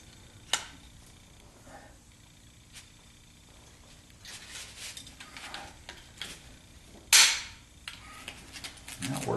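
A pop rivet gun setting a small rivet during Corvette gear shifter work in a garage, heard as a few sharp clicks and squeezes with one loud snapping pop near the end, close by and with no talking.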